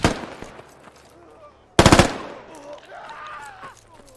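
Machine gun fire in the Squad video game: a short rattling burst up close at the start, then a second loud rapid burst midway, with a lower rumble of distant fire trailing after.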